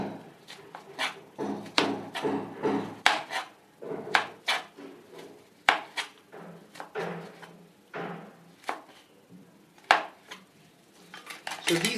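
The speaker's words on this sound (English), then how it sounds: "cut it into very fine matchstick strips" Kitchen knife chopping vegetable slices into fine julienne matchstick strips on a cutting board, a close series of irregular sharp taps and knocks with short pauses between bursts, no talking.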